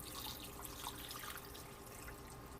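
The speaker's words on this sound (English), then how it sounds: "Pour water in there." Water is poured into a pot as a steady, faint rushing splash that fills the whole moment, with no voices.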